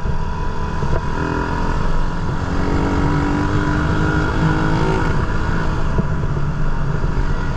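A Suzuki Raider 150 motorcycle engine runs loud and close while riding, a dense, steady mechanical roar with slight rises in pitch, alone with no talking.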